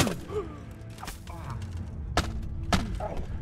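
Heavy punches land in a fistfight in Kingdom Come: Deliverance, a few dull thuds and thwacks spaced irregularly over a steady background bed, with occasional swishes between blows.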